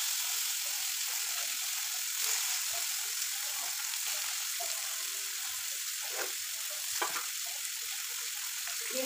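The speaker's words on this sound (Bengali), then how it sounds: "দিয়ে দেবো পেঁয়াজ কুচি" Chopped onions hit hot oil with cumin seeds and a bay leaf, giving a continuous close sizzle with a few sharper crackles and bursts.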